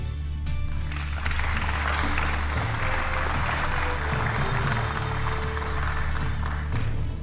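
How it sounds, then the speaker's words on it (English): An audience at a Nairobi gubernatorial debate applauds as candidates walk to the stage, broad clapping wash under steady low tones from music or hum, continuous and fairly loud. "we request the audience to applaud and welcome candidates to the stage"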